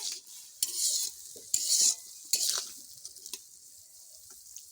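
Malabar spinach seeds stir-fried in a pan over medium heat as the water dries off, with repeated close scraping stir strokes and a light sizzle between them; no voices.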